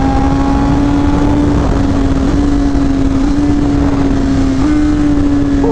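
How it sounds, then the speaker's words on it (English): Steady, loud engine drone from a BMW M1000RR motorcycle with an inline-four engine, holding an even pitch that shifts slightly a couple of times, continuous throughout with no talking. "That classic inline four sound, and I think this bike has a unique sound over most of the Japanese bikes"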